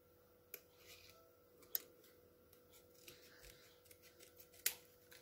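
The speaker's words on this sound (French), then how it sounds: "je vais commencer par découper l'étiquette" Scissors cut out a label, a few faint, sharp snips spaced a second or more apart against a quiet room hum.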